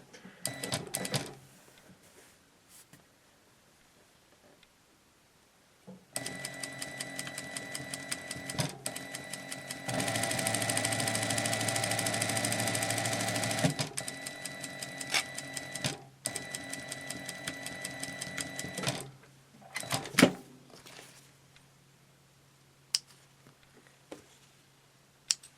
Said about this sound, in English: now we're going to top stitch the upper part and close that wire in there